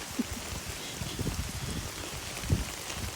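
Rain pours down in Reno, Nevada, a steady, moderately faint hiss of falling water with scattered heavier drops and patters on nearby surfaces.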